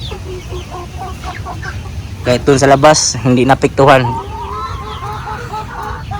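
Month-old chicks in a new free-range area cluck and chirp in a short loud burst of several calls midway, while someone talks over a steady background.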